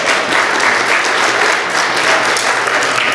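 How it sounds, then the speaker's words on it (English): Church congregation giving a loud, sustained round of applause during a service, dense overlapping clapping from many people filling the room without letup. "Give them a round of applause."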